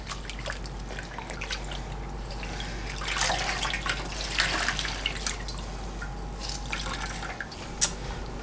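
A dyed tea towel is squished and agitated in water, giving soft drips, trickles and sloshing splashes that swell in the middle, fairly quiet and close.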